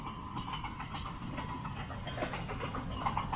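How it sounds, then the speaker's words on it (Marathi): A train runs along a railway track beside a road near Neral, giving a steady, moderately distant rumble with faint rhythmic clatter and no voices. "ट्रेन आली, ट्रेन आली,"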